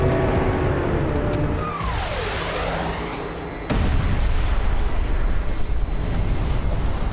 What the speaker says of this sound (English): The asteroid hits with an explosive force of 100 trillion metric tons